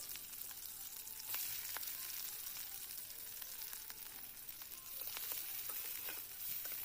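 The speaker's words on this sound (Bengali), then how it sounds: "কাঁচা লঙ্কা পেঁয়াজটা একটু লাল লাল করে ভেজে নেব" Green chillies and onion frying with cumin seeds in hot oil: a bright, continuous crackling sizzle with scattered pops, steady and close throughout, with no talking.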